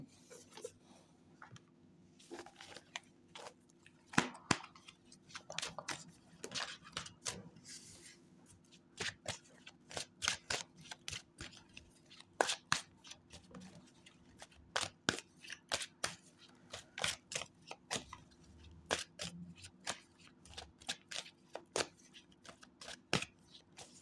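Tarot cards are shuffled and riffled close by in a fortune-telling reading, repeated crisp flicks and slaps in uneven bursts with quiet gaps between.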